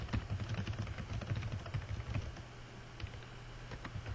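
Rapid, continuous typing on a computer keyboard, keys clattering in an uneven rhythm for several seconds, close up.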